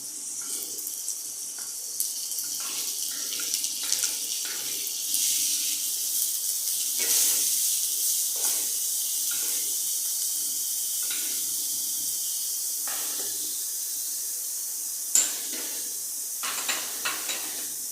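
Finely chopped onion sautés in a pan for a chicken kheema masala, giving a steady close hiss and sizzle broken by intermittent stirring scrapes and light clinks.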